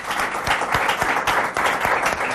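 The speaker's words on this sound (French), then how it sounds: "que je vous demande d'applaudir très très fort" Strong applause from the audience of a quiz programme greets the winners, loud and close, a brief burst of many hands clapping with a few sharper individual claps standing out.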